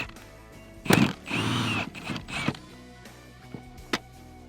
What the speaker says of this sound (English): So we're going to grab our 14 millimeter socket